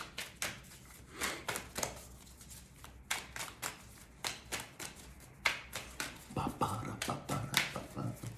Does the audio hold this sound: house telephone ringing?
no